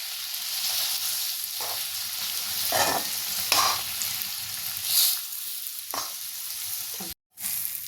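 Stuffed masala okra is stirred in a frying pan, with a continuous sizzle broken by several distinct scraping strokes of the spoon. A brief silent gap comes near the end.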